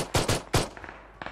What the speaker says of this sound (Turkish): Baksana silah sesi geldi.